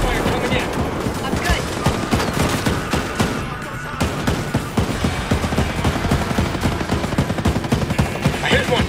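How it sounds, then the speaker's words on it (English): Mortar fire lands in Ghost Recon Breakpoint amid dense, continuous rattling gunfire and repeated blasts. The barrage is loud and sustained from start to finish. "Mortar fire coming in"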